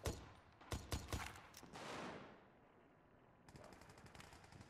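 Rapid bursts of gunfire in a shooter video game, loud sharp shots clustered early, followed by a decaying rush and then a quieter steady rattle of fire at a distance.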